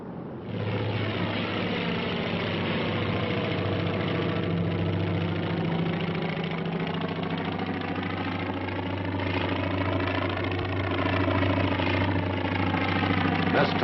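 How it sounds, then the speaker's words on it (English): Carrier-borne aircraft engines drone on a flight deck after landing, a loud, steady, close rumble with a low constant hum and slowly shifting harmonic whine that holds for the whole stretch without speech. "The last of the carrier-borne aircraft return."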